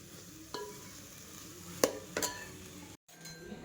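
Puran filling stirred in a pot, heard as a few quiet, scattered scraping strokes against the pot over a faint, steady background.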